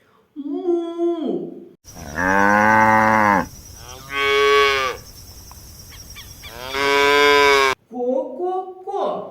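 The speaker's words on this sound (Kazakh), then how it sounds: "Мұнда сиыр. Сиыр. Сиыр. Му." A cow gives three long, drawn-out moos, loud and close, with short stretches of a person's talk at the start and end.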